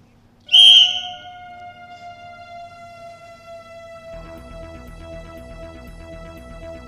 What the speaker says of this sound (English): At the sound of the whistle, you may begin.